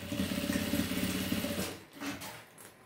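A sewing machine stitching elastic runs in a fast, steady mechanical whir for about a second and a half, then stops, leaving a few softer handling sounds.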